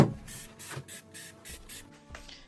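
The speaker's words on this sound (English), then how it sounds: "So now I'm going to spray it down, wipe it down." Trigger spray bottle of strong cleaner pumped inside a refrigerator during a clean-out: about six quick, hissy squirts in a steady rhythm, close and fairly soft.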